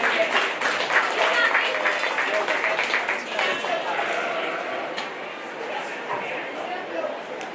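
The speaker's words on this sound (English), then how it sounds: "Let's give these exhibitors a big round of applause." Sustained applause from an audience at a county fair sheep show, dense and steady, gradually tapering in strength with a bustle of crowd noise beneath.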